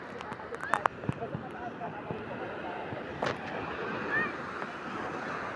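Strong sea surf at high tide on a La Union beach in the Philippines, a broad continuous wash of breaking and receding waves, with wind buffeting the microphone and a few sharp knocks early on.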